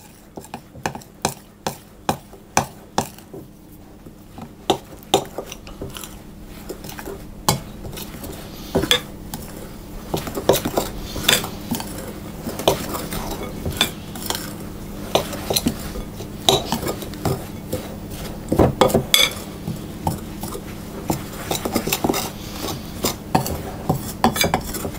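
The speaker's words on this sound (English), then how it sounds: "I'm simply going to add my milk and stir around again with the knife until it comes into a dough" A knife scrapes and clinks repeatedly against a bowl as milk is stirred into dough for jam roly poly, producing rapid, uneven metallic taps and scrapes, close and fairly loud, with no speech.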